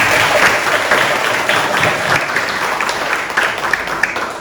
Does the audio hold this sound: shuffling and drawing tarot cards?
no